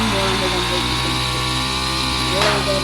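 A motorcycle engine runs nearby at a steady idle, a close, constant mechanical hum with harmonic tones and a brief rise near the end, while a person talks over it.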